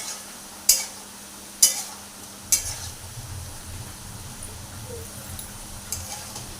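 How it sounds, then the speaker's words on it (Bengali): Potato pieces fry in hot mustard oil with a little salt while a spatula stirs them, opening with three sharp scraping clinks against the pan and then a steady close sizzle. "আলুটাও খুব ভালো করেই ভেজে নিতে হবে।"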